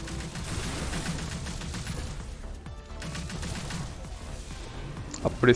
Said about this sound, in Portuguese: fuzil de assalto é outro nível